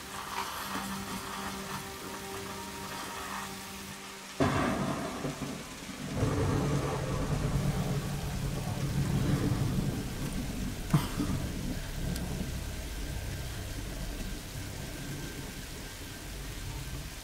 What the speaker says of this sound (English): Oh, look at the graphics on that rain.